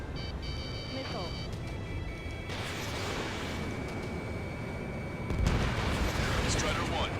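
Missiles launch and explode in the Ace Combat 7 jet combat game: loud whooshing bursts and booming blasts over constant engine roar, with radio voices talking throughout.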